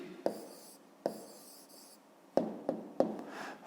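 A pen writes an answer by hand on paper for a fifth-grade maths exercise, making close, crisp scratching strokes in several short bursts separated by brief pauses.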